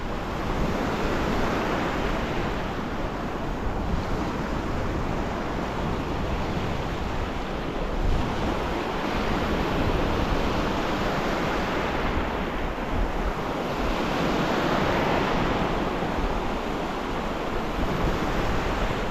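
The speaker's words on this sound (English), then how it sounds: "I've got some horrible waves coming at me" Big sea waves crash and roar continuously onto a beach at high tide, mixed with steady wind buffeting the microphone, a loud unbroken wash with no talk.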